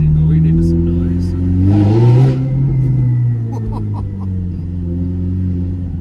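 Ferrari F430 engine revving hard while accelerating through first gear downtown, a loud rising roar that peaks and settles into a steady drone, heard from inside the car with voices speaking.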